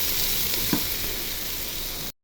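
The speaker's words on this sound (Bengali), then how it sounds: "এখন পেঁয়াজগুলো ঢেলে দিব। পেঁয়াজগুলো একটু ভেজে নিব" Onions fry in hot mustard oil, giving a loud, steady sizzle for about two seconds before it cuts off abruptly.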